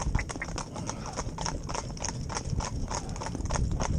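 Hooves of a pair of Gypsy Cob horses driven in tandem clop in a steady, overlapping rhythm, close and prominent over outdoor rumble, with no talking.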